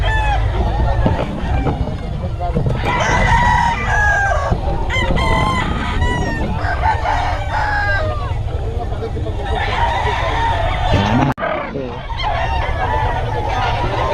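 Chickens and roosters crow and cluck constantly at a busy poultry market, loud and close, with several birds calling over one another while people talk and haggle throughout.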